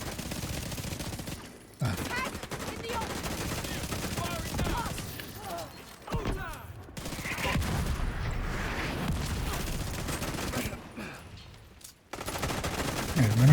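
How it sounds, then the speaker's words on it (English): Mortar salvos thud and crackle in a video game battle, dense bursts of firing broken by brief quiet gaps, fairly close and busy with layered impacts, with no voices in this stretch. "Seeing as we're still getting mortared."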